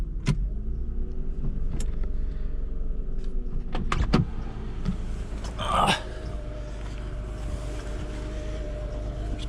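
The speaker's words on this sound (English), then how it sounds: "I gotta move the old Suburban out of the way." A 1988 Chevrolet Suburban engine runs at a steady low idle, with a few sharp clicks and a short whooshing burst partway through.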